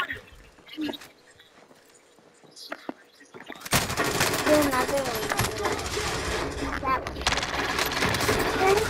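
Rapid bursts of automatic gunfire crackle in a Call of Duty: Modern Warfare match, starting after a few quieter seconds and continuing densely, loud and close, with players talking over it.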